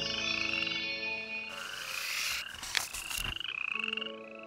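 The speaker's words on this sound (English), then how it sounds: "There were frogs in the bushes and in the trees, making the princesses fearful the frogs would jump out at them." Frogs in bushes and trees croak in a dense, rhythmic chorus, with a louder nearby croak cutting in partway through.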